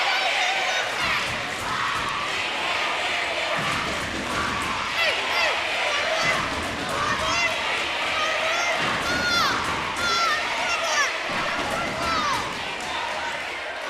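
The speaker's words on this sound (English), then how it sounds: "As the cheering between the two teams, the fans are starting to go at it here at Smithson Valley" Fans at a Smithson Valley girls' high school basketball game against Pieper fill the gym with sustained crowd cheering and shouting. Sneaker squeaks and ball bounces sound beneath the noisy, echoing din.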